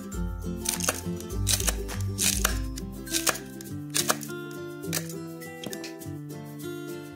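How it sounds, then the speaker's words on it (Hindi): A knife chops green chilies on a board with quick, close, crisp strokes, an irregular run of taps, while music plays steadily underneath. "देखिए हमने मिर्च काट दी है"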